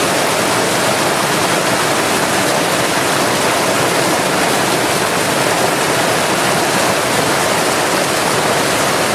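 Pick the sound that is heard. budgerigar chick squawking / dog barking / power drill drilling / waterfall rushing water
waterfall rushing water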